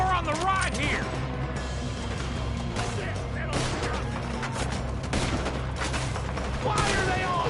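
Rapid bursts of gunfire in the Red Dead Redemption video game, played on PS4, crackle densely and continuously throughout, mixed with a busy game soundtrack and background voices.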